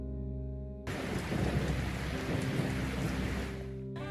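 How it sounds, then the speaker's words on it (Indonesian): Heavy rain pours down on the city of Seoul in a film scene, a dense, loud, steady roar of falling water that cuts in abruptly over a low musical drone, then fades out. "Film diawali dengan memperlihatkan kondisi kota Seoul sedang diguyur hujan deras."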